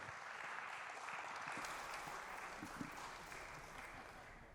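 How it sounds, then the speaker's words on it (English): A conference audience at an AI summit applauds to welcome a panel onto the stage, a steady stretch of dense, moderately distant clapping that tapers slightly toward the end. "Let's give a round of applause to welcome onto the stage."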